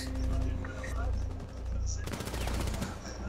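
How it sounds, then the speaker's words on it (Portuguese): Gunfire from the operator Ash in the video game Rainbow Six Siege, rapid automatic shots crackling in a dense burst in the second half, with game sounds before it and people talking over the action. "esse tiro da Ash quando ele roda"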